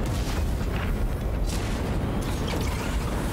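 A spaceship weapon fires in the Chorus video game, a loud, dense booming blast that fills the whole stretch with rumbling, explosive noise.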